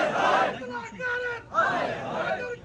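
A crowd at a rally in Khuiratta, Azad Kashmir, chants a slogan in loud unison, two shouted phrases separated by a short pause.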